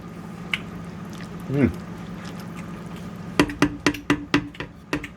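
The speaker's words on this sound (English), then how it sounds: "Gotta get my ladle. Ladle this stuff out." Homemade chicken noodle soup ladled from a big heavy-bottomed stainless steel pot, a soft slosh early on, then a quick series of wet drips and spoon knocks; a voice talks beneath it.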